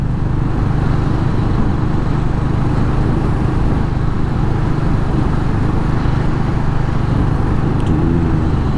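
A Royal Enfield Hunter 350 motorcycle on a leisurely ride gives a steady, loud engine drone mixed with rushing wind noise, constant in level and with no voices.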